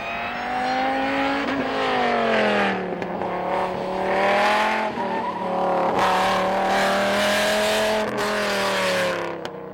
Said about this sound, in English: She went past the camera. That's what a V10 sounds like.